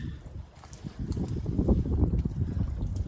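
A salt water chlorinator cell, freshly cleaned, bubbles gently in water, giving a faint, continuous fizzing and trickling with no clear individual pops.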